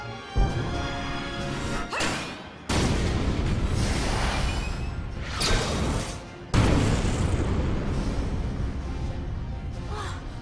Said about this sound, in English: She deflected a tank shell.